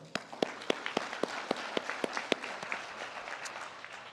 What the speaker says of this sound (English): So I know you gave her a round of applause, but let's give her another one.